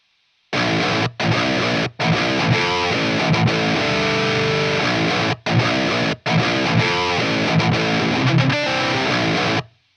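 Dry, in-your-face metal guitar through a Blackstar amp's lower-gain Crunch channel with highs and lows boosted, playing a loud, tight riff with staccato chugs and brief gaps, no talking.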